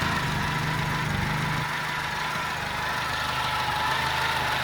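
A Mitsubishi GH Sigma engine idles on choke with a steady low hum and a faint, even ticking of tappet noise running throughout, heard close with no talking.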